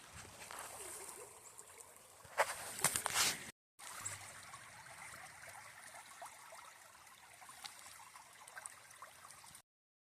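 A creek flows at a trail crossing in the Ozarks, a soft steady rush and trickle of water heard nearby, briefly broken by louder rustling and a short gap.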